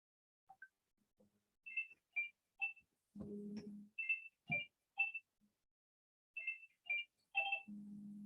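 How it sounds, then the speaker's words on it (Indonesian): An incoming phone call rings as short, repeated electronic chirps in clustered bursts, moderately close, with a few brief low thumps in between and no speech. "Sebentar ya, saya ada telepon masuk ini."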